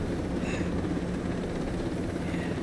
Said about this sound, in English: Apparently this helicopter's making a suspicious noise